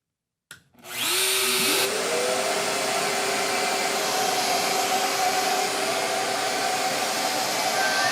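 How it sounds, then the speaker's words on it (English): A Shaper Origin handheld CNC router cutting wood joints for a portable bar box: after a brief click, the motor spins up with a rising whine into a steady, loud, high-pitched roar that holds without pause, no voices. "So this is Origin, our handheld CNC machine."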